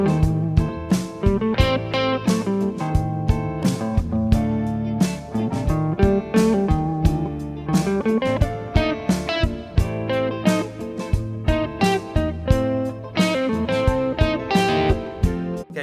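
Electric blues guitar solo over a jam track, played as a deliberately poor example that jumps over notes, with a steady stream of distorted picked phrases and choppy accents, close and loud with no talking.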